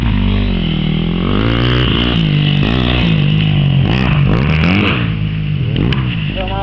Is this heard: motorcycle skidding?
yes